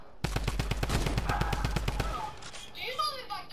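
Rapid automatic gunfire in the battle royale game Fortnite, a loud, evenly spaced string of shots lasting about two seconds, followed by quieter game sounds and faint ambient effects.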